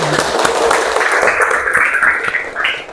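A classroom group applauding for a group that has just presented, loose scattered clapping mixed with murmuring voices and chatter, moderately loud and close.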